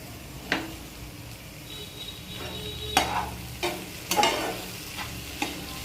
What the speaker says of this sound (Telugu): ఇది వేగుతూ ఉంటుంది